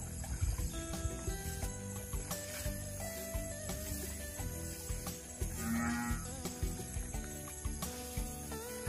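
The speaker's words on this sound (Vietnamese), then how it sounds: "Chuyện bò nó thấy em xuống nó kêu nữa rồi kìa." A cow on a rural Vietnamese family farm moos in a long, drawn-out low call amid a busy outdoor afternoon backdrop of insects, birds and faint tinkling, moderately distant and with no talking.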